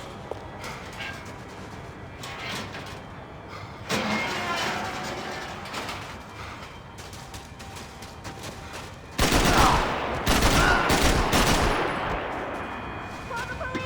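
Gunfire in the Max Payne 3 video game, dense rattling bursts of rapid shots that swell and fade across the stretch, loudest near the end, with mechanical clatter and occasional voices.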